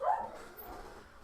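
A dog barks once somewhere in a suburban neighborhood, a short, fairly faint yelp right at the start before fading into quiet background hiss.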